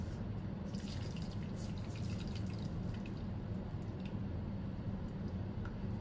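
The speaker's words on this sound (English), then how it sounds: "I'm gonna go ahead and pour it through a strainer" Lye water is poured through a strainer into soap oils while making cold-process soap, a quiet steady trickle with scattered drips and splashes running for several seconds.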